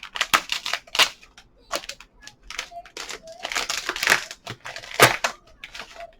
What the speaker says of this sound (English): I'm pretty sure you have to cut open these bags